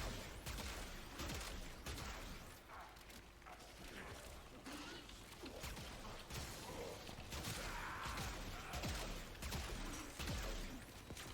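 The Arca Plasmor fires in Warframe during a Steel Path mission, dense bursts of crackling, crashing weapon blasts mixed with mechanical clatter, continuous and loud throughout.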